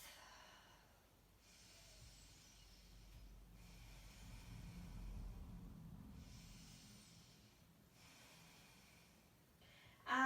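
Slow, deep breathing during a yoga session, soft and close, with long airy inhales and exhales alternating in a calm rhythm over the course of about ten seconds.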